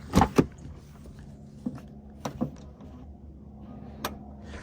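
A soft-close car door pulls itself shut: two close thuds at the start, then a few faint, spaced clicks of the latch cinching in a quiet setting.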